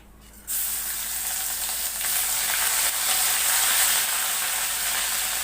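Whole cumin and ginger paste hitting hot oil in a pan, bursting into a loud steady sizzle after a brief quiet start and holding strong and close throughout, with no voices.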